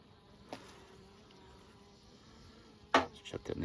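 Honey bees hum steadily around an open ten frame hive during an inspection, a soft continuous drone close by, broken by sharp knocks and clatters of frames and hive parts near the end.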